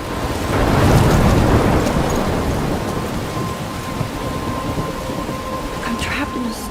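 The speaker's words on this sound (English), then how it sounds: "I'm trapped in a storm?" A Life Is Strange thunderstorm: a loud rolling thunder rumble swells and fades over continuous heavy rain, with a faint tone humming beneath.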